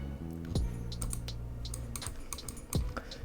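Rapid clicking of keys on a computer keyboard while playing GeoGuessr, a steady patter of close, crisp taps with a couple of heavier thumps, no talking.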